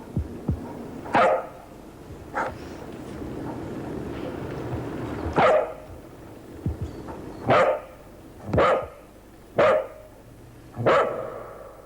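A dog barks several times at a slow, irregular pace, each bark short and sharp, close by over quiet background noise.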